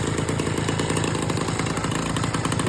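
A Motobécane AV 89 moped engine running steadily, a loud, close, buzzing two-stroke drone with rapid even pulsing that holds without a break.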